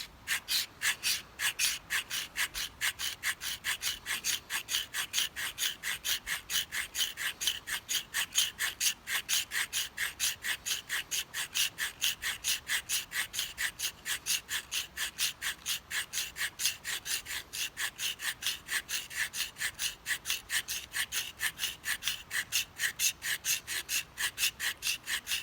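A knife's spine is scraped to raise a burr again, giving a long run of quick, evenly spaced rasping strokes, close and steady, with no talking.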